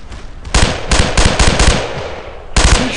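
Gunfire in the World War II video game Brothers in Arms, loud close bursts of automatic shots in rapid clusters, a short pause, then another burst.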